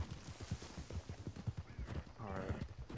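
Horses trotting in Red Dead Redemption roleplay, a fast rhythmic clip-clop of hooves close by, with talking voices over the top toward the end.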